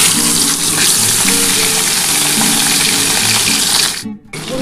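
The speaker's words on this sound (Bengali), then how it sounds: "আমি এবার মাছগুলো দিয়ে দিচ্ছি একটা একটা করে, দিয়ে আমি হালকা করে মাছগুলো ভেজে নেবো।" Katla fish pieces fry in hot oil, a loud, dense, continuous sizzle close up, with a short drop-off near the end as the frying briefly quiets.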